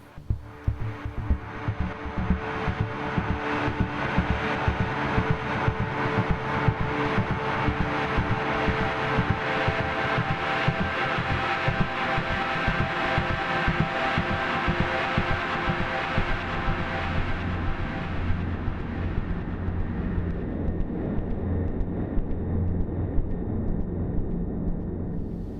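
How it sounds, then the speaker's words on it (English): Dark, noisy ambient drone pad built on a sampler from the Tremor ambient sample bank, with a steady rhythmic pulsing texture throughout, sustained and full before slowly thinning and darkening in its final seconds. "Noise drone pad, a dark rhythmic and noisy drone pad, making use of the sampler here with the sample Mondri."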